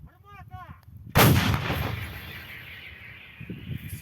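A single loud artillery gun blast in Mykolaiv Oblast, Ukraine, booms out after a moment of quiet, its roar rolling and decaying over the next few seconds.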